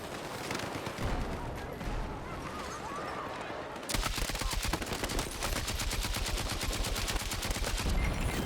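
Sustained automatic fire from a KTS100 MK8 light machine gun in Battlefield 6, a long rapid evenly spaced stream of shots that grows louder and denser partway through, close and continuous with faint background battle noise.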